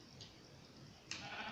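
Minecraft sheep bleat in survival gameplay, a short quiet cry heard twice, once faintly and then a brighter, longer bleat, over a low steady background hum.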